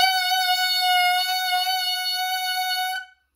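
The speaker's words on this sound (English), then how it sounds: "Now, let's try making a sound just on the mouthpiece." A tenor saxophone mouthpiece played on its own gives a single steady, bright, buzzy tone held for about three seconds before cutting off cleanly.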